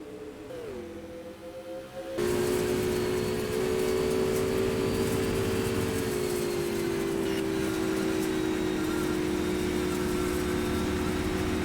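Winged supermodified race cars howl around Phoenix International Raceway during a feature race, a faint engine drone swelling abruptly into a loud, sustained high-revving roar as the pack passes close by.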